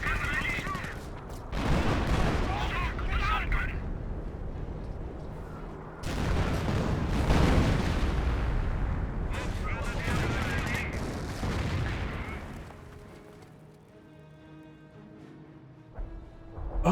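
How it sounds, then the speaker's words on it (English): Artillery fire in Company of Heroes, a World War II strategy game: long rumbling barrages of dense, overlapping blasts that roll on for several seconds at a time, fade out, then give way to quieter sounds. "we've got some officer artillery being brought in once again"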